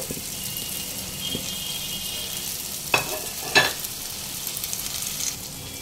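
Deboned lote fish fries in a pan over a medium-high gas flame while being stirred continuously. A steady close sizzle is broken by two sharp scraping clatters near the middle, and no one speaks.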